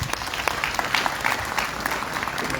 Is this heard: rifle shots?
no